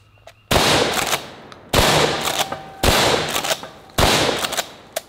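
Four loud, sharp shotgun blasts fired with 8-shot target loads, spaced roughly a second apart, each ending in a short echoing decay, with no talking.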